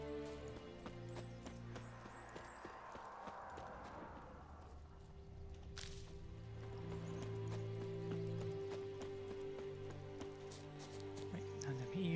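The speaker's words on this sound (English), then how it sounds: "There's my horse." Horse hooves clip-clop in the Witcher 3 game, a soft rhythmic trot under droning background music and game ambience.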